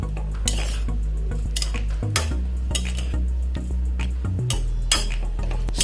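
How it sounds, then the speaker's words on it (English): Stir-fried vegetables turned in a pan, soft scraping and clinking strokes over a steady low hum, close and continuous. "So I continue stirring."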